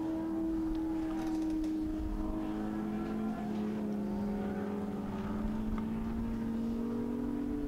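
A historic touring car at speed around Silverstone, its engine droning with a steady, slowly shifting pitch as it laps, loud and continuous throughout.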